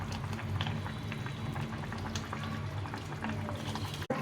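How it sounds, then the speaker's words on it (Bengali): Fish curry broth with fried kalbaus fish bubbling at a steady simmer in a pot, a continuous near crackle of popping bubbles with one brief knock near the end. "ঝোলটা ফুটে গেছে"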